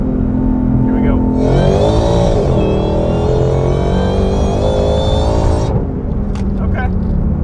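Ford Shelby GT500 with a Foster's whine mod downshifting from third to second at about 60 mph, engine note swelling into a rising supercharger whine that holds loud and steady for several seconds before dropping away, with cabin noise throughout.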